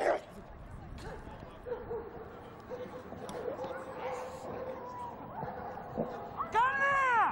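A dog at a 1990s Moscow dog show ring gives a few yips and barks amid a busy crowd hubbub and a voice, with whining, curving yelps rising near the end.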